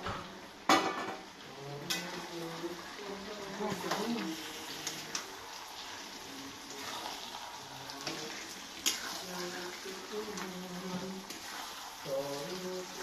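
Meat dropped into a pan in a home kitchen, with scattered clinks of utensils against cookware and stirring over a faint sizzle, close and intermittent throughout, with quiet talk alongside.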